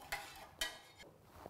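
A spoon scrapes and clinks a few times in a pot of milk, sugar and cheese for kunafa cream, soft and close with quiet gaps between strokes.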